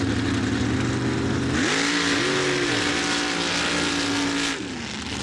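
Mud truck racing engine at a dirt track in Laporte, Indiana, roaring loud and continuous, climbing in pitch as it revs hard, then easing slightly at the end.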